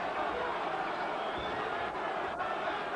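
A boxing arena crowd roaring at the end of a round in a heavyweight fight between Lennox Lewis and Frank Bruno, a steady, loud wash of crowd noise that holds throughout.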